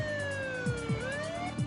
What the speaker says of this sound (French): Le sergent Pepper branche alors sa sirène et oblige son propre véhicule à s'arrêter.